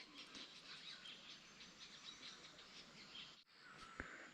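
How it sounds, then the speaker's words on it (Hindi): Birds chirp faintly in a foggy Himalayan valley, with scattered short high tweets over a soft airy background and one brief sharper call near the end. "और पक्षी चहचहा रहे हैं और ये आवाज़ बहुत अच्छी लगती है।"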